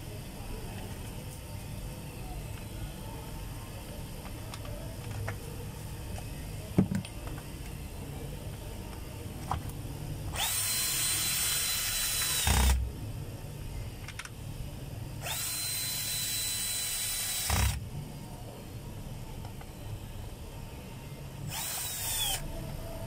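Repaired power tool, newly fitted with a replacement spindle, piston, O-ring and 607/608 bearings, test-run in three bursts of loud broadband whirring with a steady whine. Low workshop hum fills the gaps.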